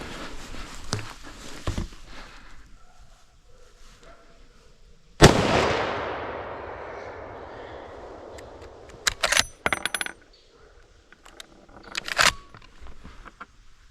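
A rifle shot fired at a red-coated wild boar from a hunting stand during a driven hunt cracks loudly once, followed by a long rolling echo and decay, with sharper clicks and rustles afterward.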